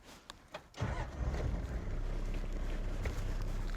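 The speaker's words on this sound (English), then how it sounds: "So I'm going to start the car, put it in first, make sure the handbrake is off" A car engine turns over and catches, then holds a steady low idle beneath wind noise during an overland winching setup, with a few soft knocks before it starts.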